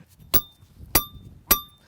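A metal hammer strikes three times while a coyote trap is set outdoors in a field, each blow a sharp, ringing clank evenly spaced about half a second apart, close and distinct against quiet.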